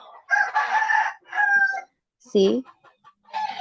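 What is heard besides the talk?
rooster crowing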